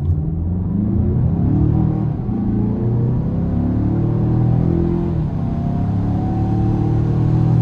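A 2022 Mazda CX-5 Turbo accelerates hard uphill from inside the cabin, its engine note a steady, loud low rumble with rising harmonics that climb as it pulls, with no talking.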